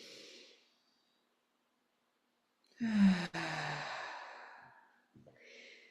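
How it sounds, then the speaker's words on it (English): A deep breath during a guided breathing exercise: a soft airy inhale, a long silent hold, then a fuller rushing exhale that tapers off, close and quiet. "let's take one more and allow our body to breathe with us, expanding 360"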